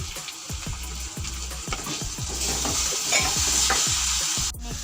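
A spice masala of turmeric, ground coriander, cumin and Kashmiri chili sautés in a pan with a little water, giving a close, steady sizzle under repeated rhythmic scraping and stirring strokes, growing slightly louder midway.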